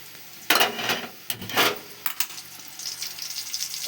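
Curry leaves, cumin and mustard seeds tempering in hot oil in a home kitchen. A few sharp clatters of utensil and pan are followed by a faint, steady sizzle.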